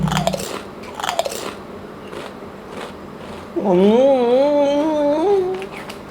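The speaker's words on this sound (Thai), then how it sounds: "คารามูโจนี่ ฟังความกรอบของมันนะเพื่อนๆ" Crisp crunches as a Karamucho potato snack is bitten and chewed up close, a few sharp bites at the start, then a voice hums a wavering tune over quieter chewing.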